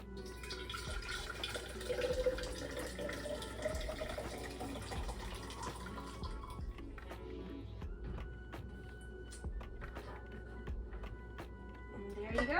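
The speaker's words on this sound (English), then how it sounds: "Then I'll grab my thermostat coffee mug to be able to pour the iced tea in there" Iced tea pours steadily into a thermos coffee mug, a continuous watery splashing and trickle that runs for several seconds beneath faint background noise, with a brief clatter near the end.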